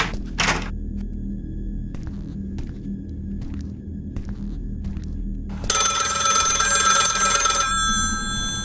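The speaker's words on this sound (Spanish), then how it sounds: "Responde al teléfono." A telephone rings in a horror video game, a bright repeated electronic trill over a low ambient hum, loud and close for about two seconds after a quiet stretch with faint knocks.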